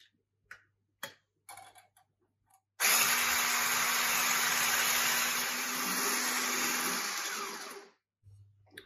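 An electric mixer whips egg whites for chocolate macarons. A few soft clicks come first, then a steady loud whirring runs for about five seconds before cutting off, with no talking.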